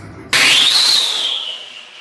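A Diwali firework bursts with a sudden loud crack, followed by a shrill rising-then-falling whistle that fades over about two seconds, close and alone.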